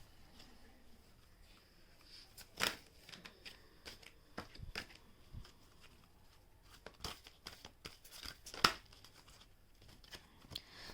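Tarot cards being shuffled to draw a theme card, a quiet series of soft riffling and flicking bursts scattered across the moment, fairly close but faint, with no talking.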